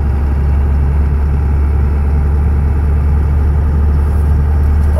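Steady engine drone from a car with a Holset HE351VE variable-vane turbo, vanes fully open, cruising at about 55 at light throttle; a continuous low rumble holds evenly throughout with no voices.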